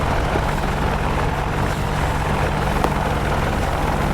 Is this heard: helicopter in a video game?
yes